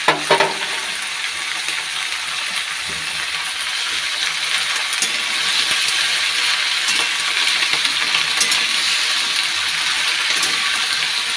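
Green chilli and tomato fry with salt and turmeric in a pan, a steady close sizzle with frequent clicks and metallic taps of a spatula stirring throughout.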